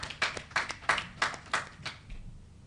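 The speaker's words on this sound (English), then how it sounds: "Please give them a round of applause for this." Sparse applause at a bank's annual general meeting, a handful of distinct claps in an irregular rhythm, fairly faint and distant, fading out after about two seconds.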